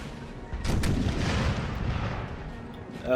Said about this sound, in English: We got 6-pounder, a 12-pounder, 2 12-pounders, so 6 12-pounders and a 6-pounder, hammering the Spaniard position